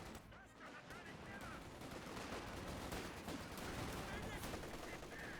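MG34 machine gun fire in the video game Company of Heroes 2 rattles in dense, sustained bursts mixed with other battlefield gunfire, fairly faint and distant-sounding under a busy mix.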